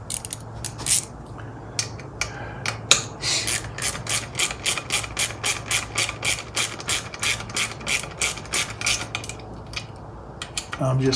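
A hand ratchet clicks in a steady run of quick strokes up close, tightening bolts on a 1980 Chrysler 45 hp outboard motor, with a short pause before the clicking starts again.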